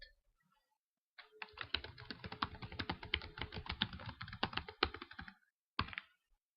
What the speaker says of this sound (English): So you will type in how the conflict was resolved in the story.